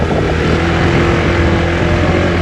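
A motorcycle carrying two riders gives off a steady, loud engine drone that holds evenly from start to finish, with no talking heard.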